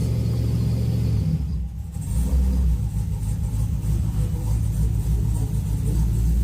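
Camaro V8 with FiTech fuel injection idles high around 1700 RPM, a deep steady rumble that dips briefly as it is put in gear, then settles back into a loud, close drone.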